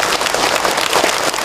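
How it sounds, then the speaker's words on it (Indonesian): An audience at an Indonesian Islamic lecture on living with in-laws breaks into brief, loud applause, a dense crackle of many hands clapping at once. "Tepuk tangan atau buat kita semua."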